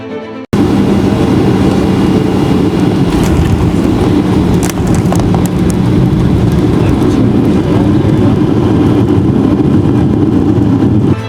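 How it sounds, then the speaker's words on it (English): Loud, steady roar of a passenger airliner cabin during its landing approach into Paphos, a dense low-frequency drone with faint rattles running through the whole clip. "finally we came in for landing"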